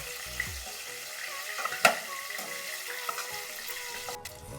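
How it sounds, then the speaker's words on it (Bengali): Pointed gourd (potol) pieces fry golden in oil in a pan, giving a soft, steady sizzle with a sharp clink of a utensil near the middle and a few lighter scrapes. "পটলগুলো আমি সুন্দর একটু সোনালি কালার করে ভেজে নিয়েছি। এখন আমি তুলে নিচ্ছি।"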